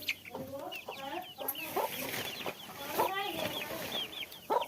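Village chickens and small chicks cluck and peep nearby, a dense continuous chorus of short calls at moderate loudness with no talking.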